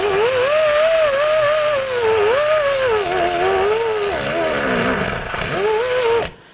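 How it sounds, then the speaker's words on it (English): Abrasive disc on a power tool cleaning rust off a Subaru Legacy rear steering knuckle, a loud, close, continuous whine whose pitch wavers as it bites and eases, cutting off abruptly at the end. "Then we're going to use our disc here to go ahead and clean up the surfaces."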